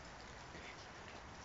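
Rain falls steadily during a storm, a faint, even hiss of drops with no other sounds.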